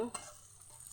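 Onion, garlic, chili and ginger stirred in a hot pan for chicken tinola, a soft scraping stir with a light sizzle lasting about a second, quiet and close.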